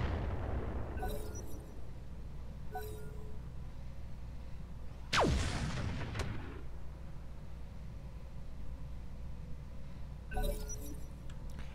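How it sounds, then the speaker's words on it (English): An artillery barrage lands in the mech combat game Roguetech, a BattleTech mod: one loud, sharp blast with a shattering crack near the middle, then scattered fainter distant impacts before and after, with no voices. "Somebody dropped a barrage."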